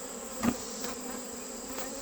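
Agitated honeybees buzz around an opened hive box during mite testing, a steady close drone with a few louder passes as individual bees fly near.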